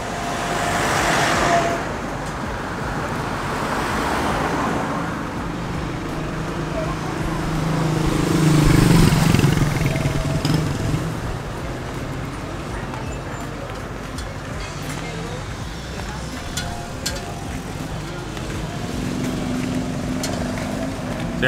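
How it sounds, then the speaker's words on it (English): Street traffic passes in the Escalante neighborhood of San Jose, Costa Rica, with a steady roadway rumble and a louder vehicle sweeping by midway. People talk nearby. "Gotta wait for traffic."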